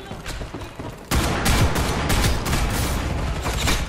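A shotgun firing repeatedly in the online shooter Ghost in the Shell: First Assault, with loud close blasts in quick succession after a quieter opening, the shots blending into a dense burst of gunfire.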